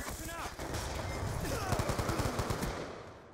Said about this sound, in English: I hear a sentry gun now.